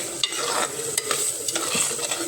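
A village-style fish curry with turmeric is stirred in a pan: soft scraping strokes and spoon taps over a steady low sizzle, close and fairly quiet.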